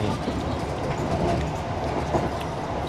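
Gumarang economy train rolling along, heard from inside its quiet dining car: a steady, close low rumble with faint clickety-clack from the wheels, continuous throughout and with no voices.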